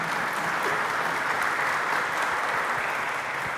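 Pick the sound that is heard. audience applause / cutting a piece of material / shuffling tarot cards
audience applause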